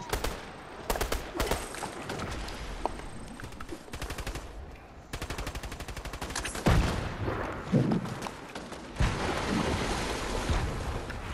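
Fortnite gunfire crackles in rapid, loud automatic bursts, with short pauses between volleys and scattered single shots, with no talking.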